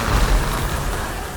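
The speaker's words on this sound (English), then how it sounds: "In every good game you need to have huge and massive explosions and massive amount of particles and pyrotechnics thrown around." A deep, loud explosion from the video game Alienation booms near and full, with a heavy low rumble that swells in the first half-second and then trails off as a sustained roar.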